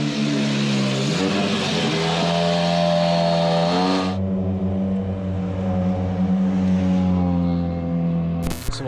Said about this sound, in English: Rally 1 cars at stage stop controls.